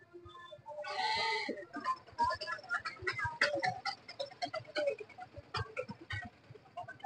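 Goats and sheep bleat at a tribal village market in Srikakulam District. One long bleat stands out near the start, followed by busy, clattering market bustle with scattered short animal calls and faint voices.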